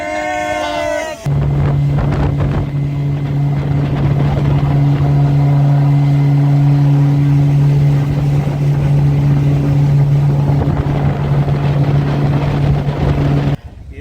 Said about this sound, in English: That wind is about 25, 30 knots.